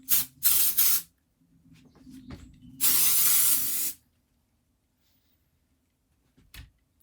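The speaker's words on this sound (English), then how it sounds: "I'm gonna do a touch of the spray just to hold it" Hair spray hisses from a can in several bursts: two short sprays, a softer one, then a longer steady blast about a second long, close and clear against near silence.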